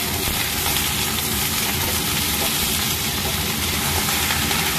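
Loud, constant sizzling and hissing of thinly sliced vegetables frying with onions in a hot pan, a dense steady crackle with no talk.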